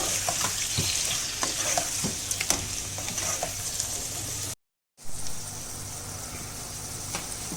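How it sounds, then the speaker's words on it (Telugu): Turmeric is stirred into a frying mixture in a pan, giving a steady, fairly loud sizzle with scraping spoon strokes and a short dropout of silence partway through. "చాలు కొద్ది పసుపు మిక్స్ చేసుకోవాలి బాగా"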